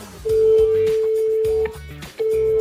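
Telephone call tones to a restaurant: a steady single tone rings out in two long stretches with a short break between, loud and close, over a busy low background bed.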